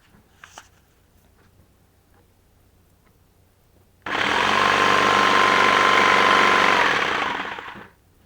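A jigsaw with its oscillation set to zero starts abruptly after a quiet stretch and cuts with a loud, steady, buzzing rattle for about four seconds before winding down and stopping.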